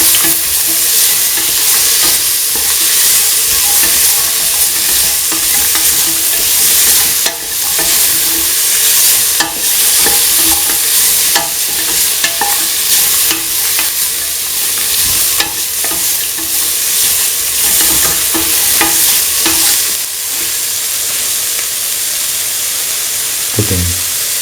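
Salt being stirred into potatoes and ivy gourd frying in a pan: a steady loud sizzle runs throughout, with repeated scraping strokes of a spoon against the pan and no talking.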